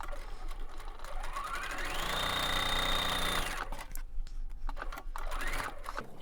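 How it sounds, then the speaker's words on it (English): A sewing machine stitches fabric pieces for a table runner in one steady, loud run lasting a couple of seconds. It slows down and stops, and softer handling noises follow. "So simply going to sew"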